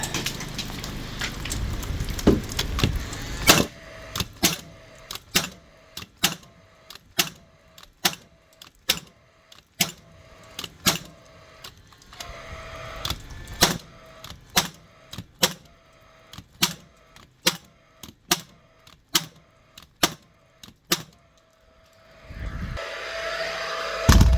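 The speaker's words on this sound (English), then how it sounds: "On paslode, up and running. Firing like she should." A Paslode nail gun fires nail after nail outdoors in the rain, giving about twenty sharp, loud cracks at a steady, unhurried pace with quiet gaps between them.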